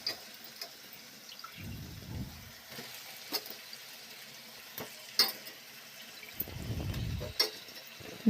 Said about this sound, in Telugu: బాగా గోల్డ్ కలర్ వచ్చే వరకు ఫ్రై చేసుకోవాలి.